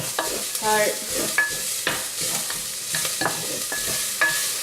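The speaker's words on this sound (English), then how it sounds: "The garlic has started to cook nicely now" Garlic sizzles in a hot pan for a sausage risotto while a spoon stirs and scrapes in irregular bursts, with a soft crackle of frying running beneath the clattering strokes; a voice says a single word.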